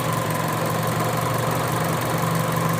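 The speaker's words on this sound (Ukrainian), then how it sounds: "Прогріваємо двигун до температури робочої." A Chevrolet Aveo 1.6 car engine idles steadily while warming up in a garage, with a constant low hum and slight vibration, close by and unchanging, with no talking.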